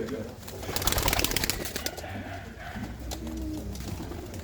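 Pigeons coo close by in a loft, their low, throaty calls repeating over faint background murmuring and rustling.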